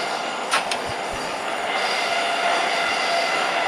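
A Yerevan metro train slowly gathering speed uphill in the tunnel, with a steady rushing rumble, brief wheel squeals and a few rail clicks under the continuous noise.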